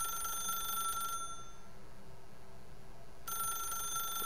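A telephone rings in The Stanley Parable, two bright electronic trill bursts separated by a long pause, heard clearly over a low, steady background hum.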